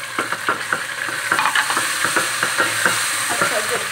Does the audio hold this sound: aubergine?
yes